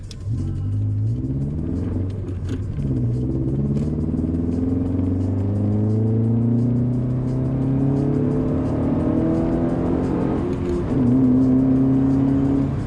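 A Subaru XV engine pulling through the gears while driving on a country road, heard from inside as a loud, steady drone with rising whine. The pitch climbs through each gear before a shift and climbs again.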